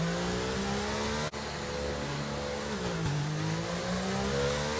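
A race car in a racing video game on the Belgium circuit revs hard and upshifts, its engine note climbing, dropping briefly at the shift, then rising again, loud and unbroken.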